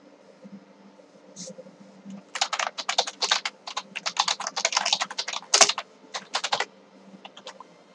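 Someone types a folder name on a computer keyboard, a quick burst of crisp, close key clicks in uneven rhythm, then a few scattered taps, with a quiet background.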